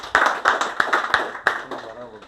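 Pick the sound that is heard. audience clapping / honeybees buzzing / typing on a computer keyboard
audience clapping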